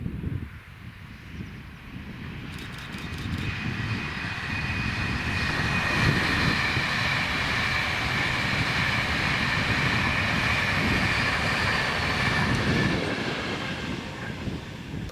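An Avanti West Coast passenger service from Glasgow Central to London Euston passes at Cartland, a steady loud rumble building and holding throughout as the train runs by close, with rail squeal and wheel noise, no talk.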